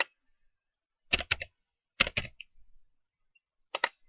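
Fingers type a name on a computer keyboard while filling in an email sign-up form, in three short, close bursts of quick clicking keystrokes separated by pauses.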